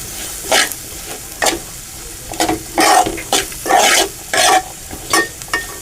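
Onion sautéing in a pan, stirred in a series of loud scraping bursts over a steady low sizzle, with no one talking.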